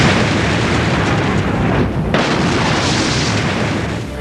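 A powerful bomb explosion at a place of worship during a dramatised attack, heard as a loud, sustained roaring blast of rumbling noise filling several seconds with no voices.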